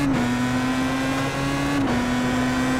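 Star Mazda race car in iRacing, two left wheels dropping into the dirt under braking, with a steady droning engine tone throughout and a brief dip near the start and again near the end, no talk.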